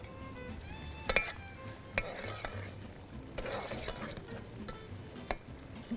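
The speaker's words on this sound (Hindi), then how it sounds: "कीमे की थोड़ी सी भुनाई होगी" Minced meat being fried and stirred with tomato puree in a pan, a soft continuous sizzle broken by a few sharp utensil clacks against the pot, close and fairly quiet, with no speech.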